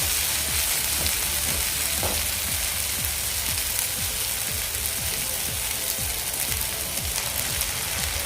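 Egg tava masala sautéing in oil in a pan, a steady dense sizzle with frequent soft stirring scrapes and clicks, close and continuous throughout.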